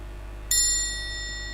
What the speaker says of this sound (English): I'm going to go ahead and ding the bell.